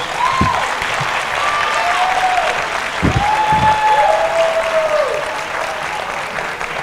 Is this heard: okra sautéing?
no